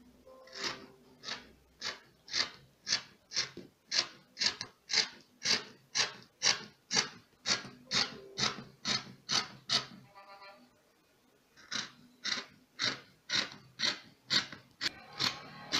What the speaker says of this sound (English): I'm going to cut it out.